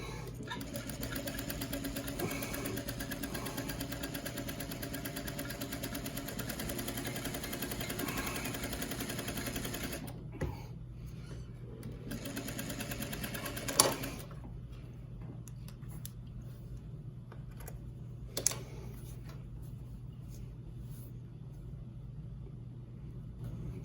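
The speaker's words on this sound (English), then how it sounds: "Okay, so now we're over at the sewing machine." A sewing machine whirs steadily as it stitches a quarter-inch seam on a fabric mask, then pauses and restarts in short bursts with a couple of sharp clicks; no talking.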